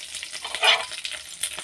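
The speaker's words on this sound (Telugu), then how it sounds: "మాకు ఎండుమిర్చి ఇష్టమని ఎండుమిర్చి వేస్తున్నా" Dried red chillies sizzling in hot oil in a pan while making jowar flour upma, a brief crackling fry with one louder burst of spitting midway, close and moderately quiet.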